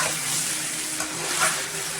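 Kohlrabi (ganth gobhi) sabzi with salt cooking in a pan, a loud, dense, continuous sizzle with faint stirring scrapes, close and uninterrupted.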